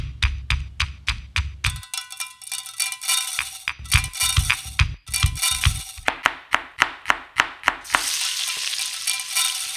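Rougail saucisse, a sausage stew, cooking in a pot at an outdoor contest, with steady sizzling frying broken up by rhythmic metallic taps and scrapes of a spoon stirring, close and fairly loud.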